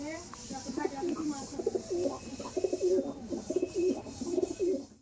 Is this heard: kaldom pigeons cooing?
yes